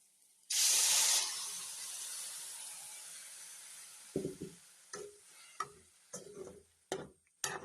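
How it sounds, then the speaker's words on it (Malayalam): Jaggery syrup hits a hot pan with a loud, sharp hiss that rushes up and then fades into a long, softer sizzle. Several brief clicks and scrapes follow as the pan is stirred. "നമുക്ക് ഇതിനകത്തോട്ട് ശർക്കരപ്പാനി ഒഴിച്ചു കൊടുക്കാം"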